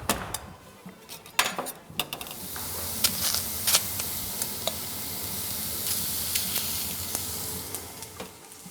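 Meat frying in a pan for a Gyumri-style tava dish, a steady close hiss of sizzling fat with occasional clinks and scrapes of a utensil, building slightly toward the end with no talk.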